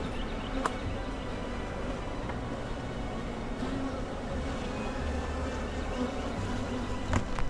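Honey bees buzz around wooden beehive boxes stacked with medium supers, a steady, dense insect hum that carries evenly throughout with no voices.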